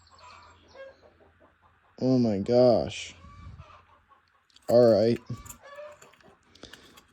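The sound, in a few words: chickens clucking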